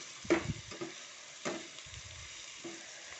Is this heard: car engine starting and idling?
no